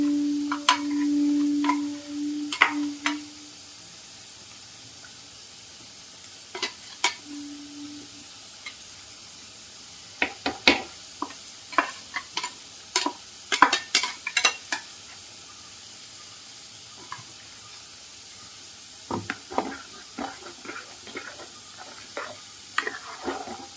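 Ground coconut-style paste is stirred into a simmering theeyal curry of onion, tomato, green chilli, lentils and potato, heard as intermittent scraping and clinking of a spoon against the pot amid a faint sizzle, with quiet gaps between bursts.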